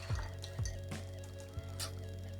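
Black paint rinsed from a paintbrush in a cup of water, a faint, close sequence of soft swishes, small taps against the container and drips, with low background music and no speech.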